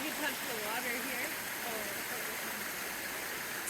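Steady rain falls at the Liard River Hot Springs, a dense continuous hiss blending with the flowing water of the stream, moderately faint and even throughout.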